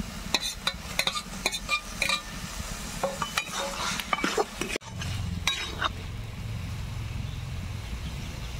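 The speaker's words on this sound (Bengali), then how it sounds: "কচু সুন্দরভাবে কষিয়ে নিয়েছি, এবার দিয়ে দেবো ভেজে রাখা চিংড়ি।" A spoon scrapes and clacks against a pan as fried shrimp are stirred into cooked taro stems. Close, uneven strokes give way to a steady, even sizzle.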